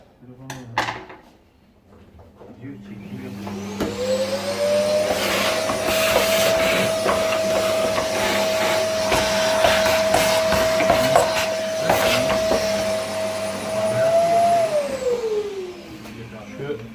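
A Bosch ProSilence Allergy 2400W vacuum cleaner with weak suction whines up, runs steadily at a high pitch for about ten seconds, then winds down, with clattering handling noises around it.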